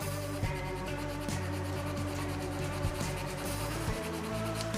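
Steady scratchy rubbing of sandpaper in repeated strokes, hand sanding a shaving brush handle, close by and fairly quiet, over a low background hum.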